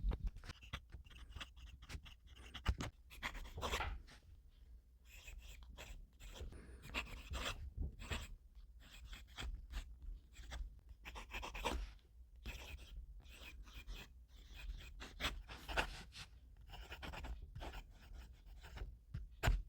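A pen scratches black ink onto paper in a quiet room, a soft continuous run of strokes and taps close up, irregular in rhythm.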